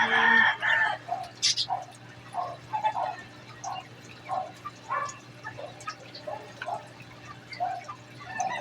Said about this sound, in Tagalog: Itong mga itik, mga aligaga. Ayan, bigyan ko sila ng pagkain.